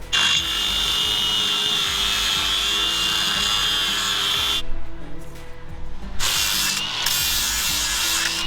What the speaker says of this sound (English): get a thin cut on the grinder